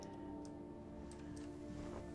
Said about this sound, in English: There's like a clock happening. Do you hear the clock?